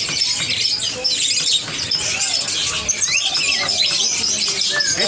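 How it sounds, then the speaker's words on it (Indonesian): Cucak wiles songbird calling at a bird market, with thin high chirps and twittering amid dense, continuous chatter from other caged birds and crowd noise throughout. "Ini cucak wiles."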